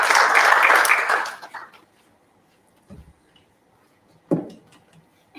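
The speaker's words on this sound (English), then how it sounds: "A hand of applause, please," Audience applause for Minister Derek Bierkes at an NPA community dialogue, a dense burst of clapping that fades out after about a second and a half, leaving a quiet room with a couple of soft knocks.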